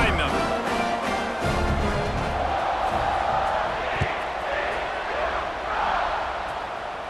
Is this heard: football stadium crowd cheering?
yes